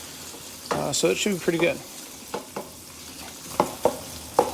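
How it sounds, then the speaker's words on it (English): Cabbage and pork chops frying in a pan, making a soft steady sizzle with occasional stirring clicks, heard under someone talking through the first part and alone with faint crackles afterward. "So those are all frying good."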